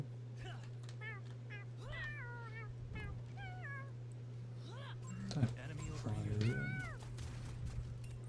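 A cat meows repeatedly in a video game, a series of short rising and falling cries, over a steady low hum, while a person talks intermittently.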